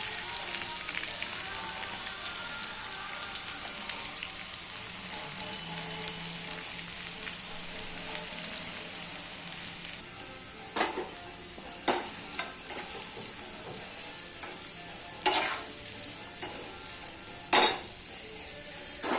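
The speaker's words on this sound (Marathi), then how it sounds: "आता हा कांदा चांगला ब्राऊन कलर येईपर्यंत भाजायचा आहे" Onion fries in a hot pan over a gas flame, a steady loud sizzle throughout, with scraping stirs and a few sharp utensil clinks against the pan toward the end.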